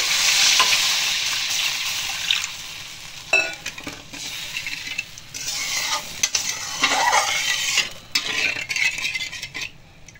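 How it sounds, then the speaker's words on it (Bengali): Water poured into a hot pan of sizzling mustard hilsa fish curry, a loud hissing burst of steam that settles into steady frying, with stirring and the clink of a utensil against the pan. "এবার একটু আমি জল দিয়ে দিচ্ছি।"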